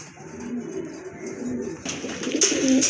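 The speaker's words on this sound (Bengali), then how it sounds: "আরেক জোড়া কবুতর এই যে দেখতে পাচ্ছেন" Pigeons coo in soft, repeated low murmurs, close by at a pigeon farm, with a rustle and a brief flutter toward the end.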